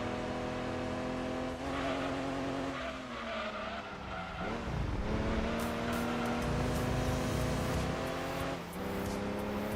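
Race car in Gran Turismo 2 racing at speed, engine droning loud and continuous with pitch rising and dipping through gear changes, plus bursts of tyre squeal and skidding.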